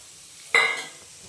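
Grated carrot stirred and frying in ghee in a pan, a single brief burst of sizzling and scraping that fades away quickly, with no voices.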